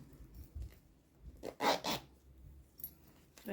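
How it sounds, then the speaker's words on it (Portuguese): The zipper on a fabric makeup bag is pushed along in a couple of short, close scraping pulls, with light handling rustle between them. "Você dá uma empurradinha aqui no zíper"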